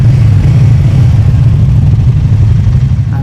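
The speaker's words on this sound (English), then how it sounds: "Fifth is the exhaust note. It sounds very nice." A loud, low, continuous engine rumble with a steady throbbing exhaust from a Royal Enfield Himalayan 450 motorcycle while riding, heard close up and without any voices.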